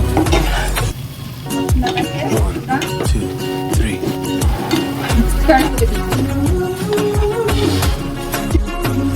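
Tomatoes are stirred into meat cooking in a pan, with rhythmic scraping and clinking strokes over a soft sizzle, close up, while a voice talks.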